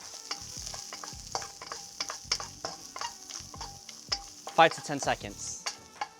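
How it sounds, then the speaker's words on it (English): Sliced garlic is tossed in a hot pan for a beef stir-fry, making a crackling sizzle under repeated rhythmic spatula scrapes and strokes, with a brief spoken phrase partway through. "Once the pan is hot again, toss your sliced garlic and mix that around."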